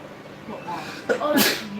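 A single sharp sneeze bursts out near the end, close and loud, just after someone speaks.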